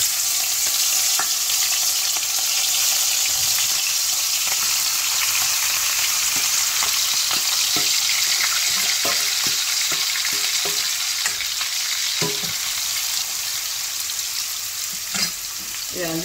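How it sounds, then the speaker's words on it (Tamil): Mussels shallow-frying in hot oil hiss as a loud, dense, unbroken sizzle throughout, with scattered clicks and scrapes from stirring near the end. "இந்த மசில்ஸ் எல்லாம் நான் வந்து இந்த எண்ணெயில் சேர்த்துக்கிறேன்"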